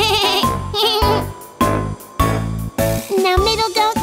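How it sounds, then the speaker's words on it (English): A cartoon goat in a children's story bleats in a series of wavering, nasal cries, loud and close, with short breaks between them. "Now Middle Goat was next to cross, and off he went trip-chop."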